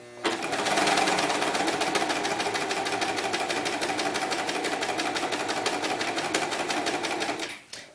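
Serger sewing machine running steadily while finishing the edge of a doll romper, a fast, even mechanical chatter held close and loud for several seconds before stopping abruptly.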